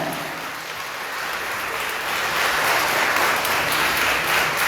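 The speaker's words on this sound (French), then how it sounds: "Votre applaudissement plus fort." Students rise and applaud at a school celebration for the 75th anniversary of a Baptist evangelical college in Plaisance, a broad, even roar of many hands that swells slightly louder toward the end, with no voices on top.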